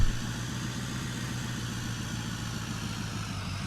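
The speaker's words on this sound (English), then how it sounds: "This tractor is a little bit loud." A tractor engine idles in Farming Simulator 17 on the Belgique Profonde map, a steady loud low diesel drone that holds constant throughout with no talk over it.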